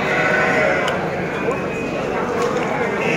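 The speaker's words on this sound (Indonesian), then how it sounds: "Tuh, banyak domba-domba priangan." Priangan sheep bleating amid the crowd at the Tanjungsari livestock market, several close and distant bleats over a dense hubbub of people talking.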